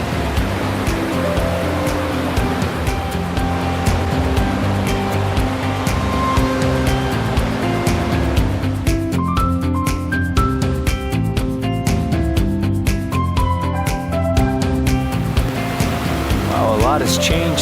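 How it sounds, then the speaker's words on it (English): A continuous roar of rushing water, broad and steady like rapids below, filling the whole stretch with some faint birdsong in the later part. "Those rapids sound lovely down there."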